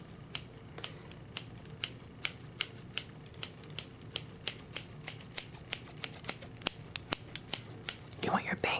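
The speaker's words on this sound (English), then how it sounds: "I'm gonna take my scissors and start cutting." Scissors snip hair in a haircut close to the microphone, a long even run of sharp, crisp clicks, with a short rustle at the end.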